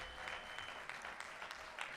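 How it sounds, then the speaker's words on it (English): An audience at a political caucus event during the 2024 Democratic National Convention applauds: a steady wash of clapping from a crowd in a large room, heard faint and distant for a couple of seconds. "can you give a big round of applause again to Bell, the leadership?"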